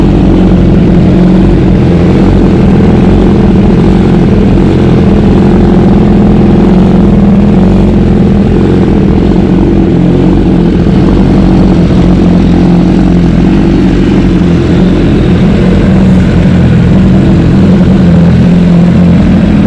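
Two BMW superbikes, a 2018 S1000RR and an HP4, idle steadily while warming up, a loud, continuous deep engine drone with a throbbing low end and no talk.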